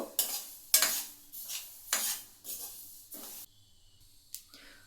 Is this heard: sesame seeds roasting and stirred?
yes